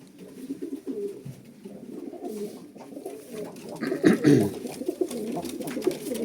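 Pigeons cooing close by, low throaty repeated coos from several birds overlapping in a steady murmur, with a louder burst of cooing partway through; no talk.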